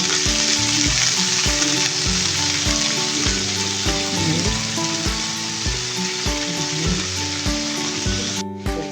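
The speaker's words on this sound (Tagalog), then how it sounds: "Deep fry na to ang baka o sinulog." Beef deep fries in hot oil for a Korean beef stew, a dense, constant crackling sizzle punctuated by regular thumps and clatters, as if pieces are being stirred or turned.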